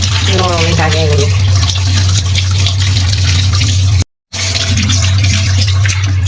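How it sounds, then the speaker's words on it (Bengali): Dried fish being washed by hand in water and its scales rubbed off, with continuous loud splashing and swishing over a constant low hum, interrupted by a brief dropout; someone talks over part of it. "ধুয়ে নিচ্ছি এগুলোকে সুন্দর করে, আঁশগুলো ছাড়া নিচ্ছি, আলতোভাবে দিতে হয়"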